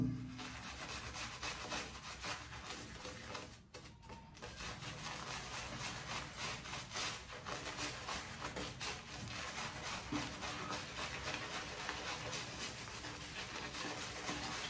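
A synthetic shaving brush whipping face lather: a continuous, close wet rubbing and swishing with a fast rhythm, broken by a brief pause near the start.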